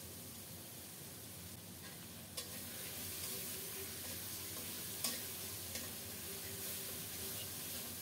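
A paste of onion, ginger, cumin and green chilli fries in a pan with a soft, steady hiss and sizzle, broken by a few sharp spatula scrapes and taps, close but quiet.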